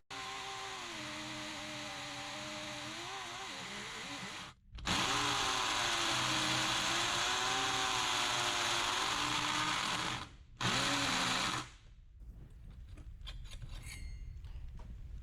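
A Ryobi power tool, smoking and struggling, cuts through material with a loud, close whining motor drone whose pitch wavers under load. It stops briefly twice, then gives way to quieter rattling noise at the end.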